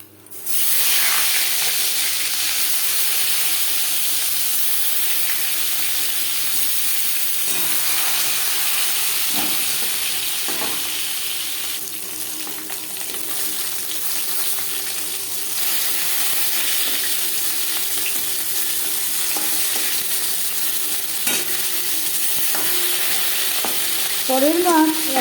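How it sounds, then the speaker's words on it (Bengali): Rui fish frying in oil in a kadai, a steady loud sizzle and hiss running continuously, with occasional stirring clinks and a few spattering pops near the end. "পরের মাছ একইভাবে ভেজে নেব।"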